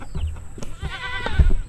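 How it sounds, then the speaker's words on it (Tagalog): A goat bleats once, a wavering nasal cry, near and fairly loud amid rustling and scuffling sounds. "Sisilungan natin yung mga kambing"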